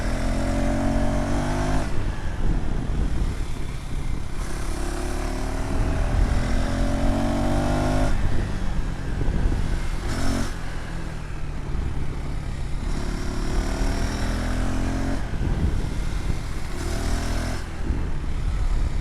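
A KTM ADV 390 motorcycle on the move, its engine droning loud and steady with rising and falling revs as gears shift, plus wind rush.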